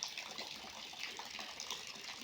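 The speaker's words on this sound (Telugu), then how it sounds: "అక్కడ ముందుగా కాలువలకి వాటర్ వెళ్తున్నాయి" Rainwater pours steadily into village canals, a continuous close rushing gush with no pauses and no voices over it.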